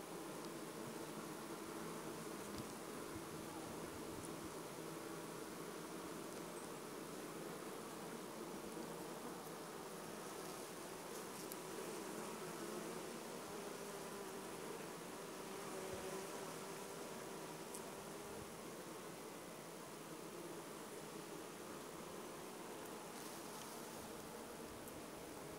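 A dense, continuous buzzing of many bees fills the recording, steady and moderately loud without pauses.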